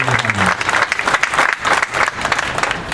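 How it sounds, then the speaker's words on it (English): Loud, dense audience applause at a police division officer appreciation day, steady clapping from a crowd from start to finish with a brief voice at the opening. "So give them all a round of applause."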